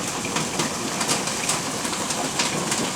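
Heavy hail and rain pelting and splashing on a road, a dense steady hiss with scattered sharper impacts, fairly loud and continuous without speech.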